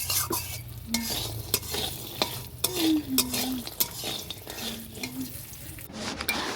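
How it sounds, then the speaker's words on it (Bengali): Bori, small lentil dumplings, frying in a pan beside stirring and the soft scrape of a utensil, with a steady sizzle running throughout and a few sharp clinks from the cookware. "এই যে বড়ি ভেজে নিচ্ছি"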